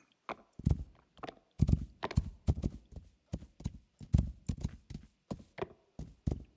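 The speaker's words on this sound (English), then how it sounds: "Hopefully this horse can get around." Horse hooves walking in the game Rising World, a steady series of clear, close clip-clop steps with slightly uneven rhythm, heard alone without talk.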